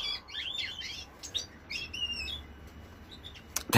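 Goldfinches and canaries sing and chirp together in an indoor breeding room, a busy layered chorus of bright trills and tweets at moderate distance, with a brief sharp knock near the end.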